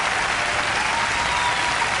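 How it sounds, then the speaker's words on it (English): Continuous applause, a dense even roar of many hands clapping at constant loudness throughout, with no talking. "I can clap all day"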